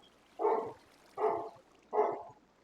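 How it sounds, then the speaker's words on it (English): A dog barks three times at a steady pace with short gaps between, each bark a full, medium-pitched woof that sounds moderately close, with no talking over it. "Sorry, my dog's barking in the background"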